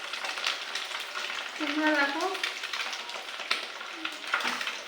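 Pomfret fish frying in a pan gives a steady, moderately loud crackling sizzle with occasional sharper pops, while someone speaks briefly over it.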